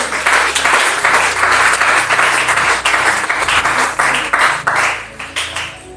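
A church congregation claps and cheers in praise, a dense, sustained wave of applause and voices that stays loud throughout with slight swells.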